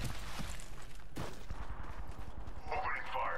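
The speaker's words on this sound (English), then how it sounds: "Opening fire." A Prowler SMG fires in the video game Apex Legends, with rapid, evenly spaced shots cracking in sustained bursts up close and players' voices breaking in near the end.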